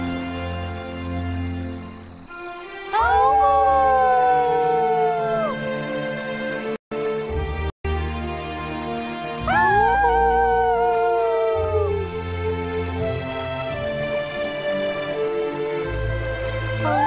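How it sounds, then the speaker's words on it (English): Dogs howling together in a storybook scene, two long wavering howls rising then sliding down, one starting near three seconds and another near nine seconds, over a steady musical backdrop. "He and Spot looked up at the stars and howled together."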